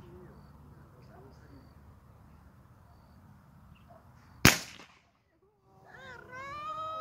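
A single sharp crack from an air gun firing a 1.4 gram lead pellet at a beer can, loud and close after quiet outdoor ambience, followed by a brief silence and then a voice speaking.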